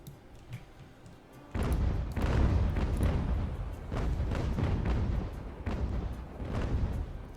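Cannon grapeshot from a sailing warship in the Ultimate Admiral Age of Sail video game, with heavy rolling booms in repeated overlapping volleys, loud and rumbling after a quieter opening.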